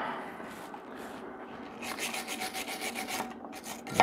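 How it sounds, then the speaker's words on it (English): Scrubbing with a wire brush on a dirty weld during metal grinding and welding work, a steady rasping scrape that grows louder and more rhythmic halfway through, with quick back-and-forth strokes near the end. "Where's my wire brush?"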